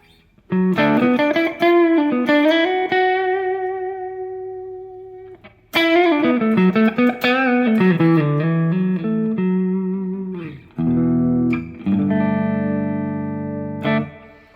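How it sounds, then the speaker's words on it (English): An electric guitar through a Big Joe Empire Dual Overdrive pedal rings out thick, moderately driven sustained notes and chords, played close and loud with brief pauses between phrases. "Nice thick overdrive. It doesn't get super saturated, but it's got a nice fullness to it."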